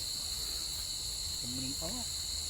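Crickets chirp in a dense, unbroken shrill chorus that stays constant, while a brief voice-like sound rises faintly underneath near the end.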